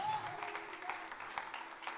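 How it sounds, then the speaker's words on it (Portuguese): Brief applause at a church service, a scattered crowd clapping fairly faintly under a murmur of voices. "Aplausos a Jesus."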